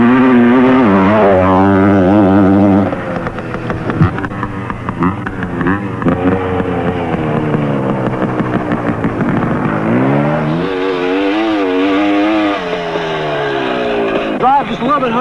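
Vintage Yamaha DT2MX motocross motorcycle from 1972 riding on a track, its engine revving and pitch shifting up and down, loud and close, with someone talking over it.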